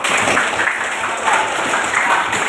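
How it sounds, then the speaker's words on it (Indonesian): A classroom of pupils clap their hands together at a teacher's prompt, a steady, dense wash of applause filling the room without pause. "Oke, satu tepuk tangan dulu."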